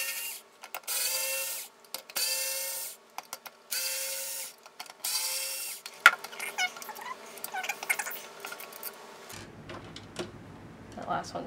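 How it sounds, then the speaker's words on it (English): A screwdriver backs screws out of the casing of a Nerf drum magazine, giving repeated close ratcheting, squeaking turns in bursts followed by handling clatter, with no one talking. "there's a bunch of screws on the outside. Just lefty-loosey those out of there"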